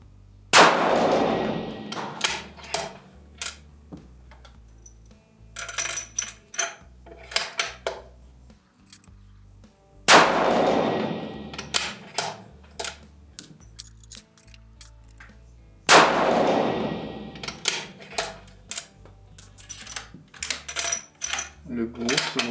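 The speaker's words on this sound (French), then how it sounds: "je vais retirer 5 coups avec ça" A rifle firing .308 Win ammunition sends out three sharp, loud reports spaced several seconds apart, each followed by a fading ring and metallic clinks of handling in between.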